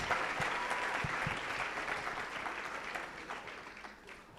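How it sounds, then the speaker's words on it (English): Steady audience applause fills a program launch event in Rwanda, a dense continuous patter of many hands at moderate loudness that slowly tapers toward the end. "Can we give him a bigger round of applause?"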